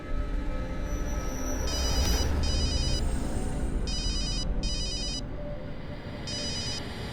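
A phone rings with repeated short electronic ringtone bursts in evenly spaced pairs, heard over low room noise in an indoor crime drama scene.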